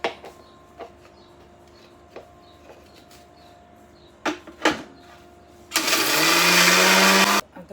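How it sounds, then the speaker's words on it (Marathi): A kitchen mixer grinder whirs loudly and close for about two seconds as it grinds garlic and ginger dry, without water. Its pitch climbs as it runs. Scattered light taps and clicks come before it. "आता हे ना पाणी न टाकता वाटून घ्यायचं आहे"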